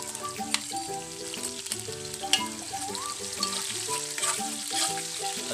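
Ginger frying in a pan, a steady sizzle with scattered crackles running beneath music-like tones throughout.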